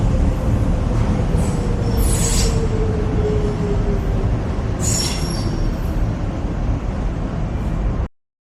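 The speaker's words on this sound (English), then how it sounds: "Here we are at Canary Wharf, DLR, Docklands Light Railway." A Docklands Light Railway train at Canary Wharf in London rumbles steadily and loudly at close range, with wheel squeal sliding downward and brief high screeches as it runs along the track.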